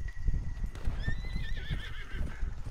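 A horse in the video game Red Dead Redemption 2 gives a wavering neigh over steady clip-clop hoofbeats, with low rumbling game sound underneath.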